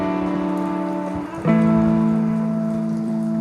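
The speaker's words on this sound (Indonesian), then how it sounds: "Kita lalui hujan ini dengan pelan-pelan aja." Steady rain falls on a mountain trail on the way up Gunung Arjuno, making a constant close hiss, with a sustained droning tone running underneath throughout.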